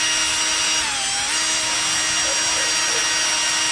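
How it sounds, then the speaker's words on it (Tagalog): A metal-cutting drill bit bores into a Canon 745 ink cartridge for an MG2570S printer, giving a steady, close, continuous grinding whine that holds for the whole stretch. "Pag magbubutas tayo, walang dumi"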